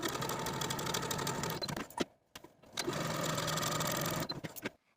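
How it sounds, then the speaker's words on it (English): A sewing machine runs a long stitch along a sleeve seam in two loud, close bursts of rapid mechanical whirring, with a short pause between them and clicks as it stops. "I'm going to use the longest stitch on my machine with about a 1/2 inch seam allowance"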